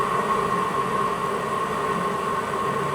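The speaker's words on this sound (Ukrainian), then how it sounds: "Тепер навіть на слух чутно, як вона якось ривками розкручує той ротор." A NextSpin washing machine motor with a faulty brush contact on the armature commutator spins up its rotor in uneven jerks, giving a steady close whir and hum.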